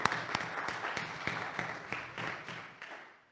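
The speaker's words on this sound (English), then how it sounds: "And I want to applaud you." A church congregation claps in a dense, steady round of applause that gradually fades.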